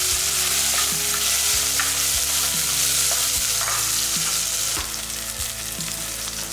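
Food sizzles steadily in a hot pan while a utensil scrapes and knocks through it at intervals, sautéing ingredients for a Tamil-style gravy side dish, close and loud with no talk.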